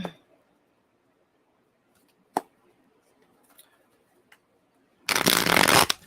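Tarot cards are shuffled close up in one loud, dense riffling burst near the end, after a few scattered light taps and handling sounds in near silence.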